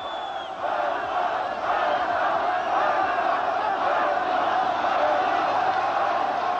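A large nationalist crowd surging toward the Ukrainian parliament, a steady roar of many shouting voices and cries blending into a dense, continuous wall of noise that holds level throughout.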